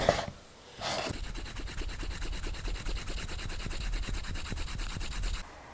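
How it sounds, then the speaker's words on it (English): A leather edge is burnished with Tokonol, producing a close, steady rapid rubbing with a quick back-and-forth rhythm that runs continuously for several seconds after a brief pause. "I usually use Tokonol to burnish the edge."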